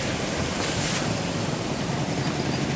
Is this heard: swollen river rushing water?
yes